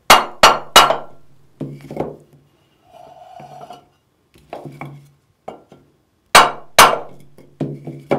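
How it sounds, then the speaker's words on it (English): Sharp knocks from a wooden block tapping a 4L60E transmission's torque converter hub to free it, in quick clusters of two or three close-up hits, with clanks and a brief whirring spin between them. "If it's tight, tap it with a block of wood until it loosens up."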